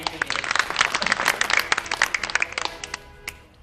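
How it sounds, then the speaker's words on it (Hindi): A modest audience claps at a stage event in India, a scattered burst of hand claps that thins out and fades after a few seconds. "एक बार जोरदार तालियां इनके लिए।"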